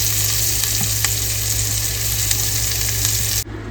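Bacon strips frying in a pan, a steady dense sizzle with faint crackles that runs loud and continuous, then cuts off abruptly near the end.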